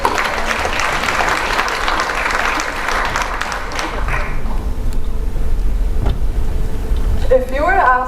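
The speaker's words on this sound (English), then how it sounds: "So let's give Grace a round of applause" An audience bursts into dense applause at a young entrepreneurs' business event, clapping loudly for about four seconds before thinning out, with voices talking near the end.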